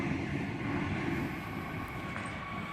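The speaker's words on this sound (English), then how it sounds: "Waratah A48 now departing platform number 2 for a Reesby service" A Waratah A48 set pulls out of platform 2 at Turrella station, a low steady rolling rumble with a faint high whine, heard at moderate distance with no speech.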